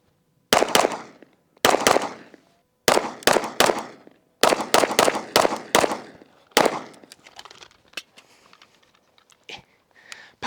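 A Sig P320 pistol firing in quick double shots: about a dozen loud, sharp cracks grouped in pairs with short echoing tails, followed by fainter scattered pops and clicks.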